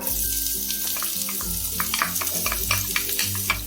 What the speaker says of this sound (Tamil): எண்ணெய் சூடாயிடுச்சுங்க. நம்ம இதில் ஆனியன் ஆட் பண்ணிக்கலாம்.